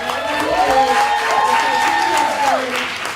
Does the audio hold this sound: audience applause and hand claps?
yes